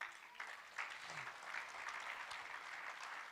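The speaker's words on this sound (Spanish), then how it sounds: "Dale un aplauso a Dios." A church congregation claps together during a sermon, a quiet, fairly even applause rising after a short pause and holding steady, heard somewhat distant.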